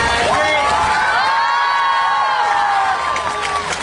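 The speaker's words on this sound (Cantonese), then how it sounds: "大家再一次俾熱烈嘅掌聲我哋嘅" A crowd of fans at a Twins tenth-anniversary fan party applauds and cheers loudly and continuously, with whoops and shouts over clapping and some high sustained tones running through it.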